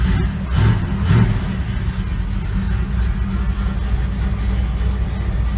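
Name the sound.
1972 Chevy C10 engine idling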